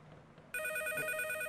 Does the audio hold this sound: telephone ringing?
yes